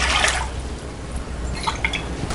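Water splashes and trickles into a pressure cooker, a brief pour with scattered drips, fairly quiet and close.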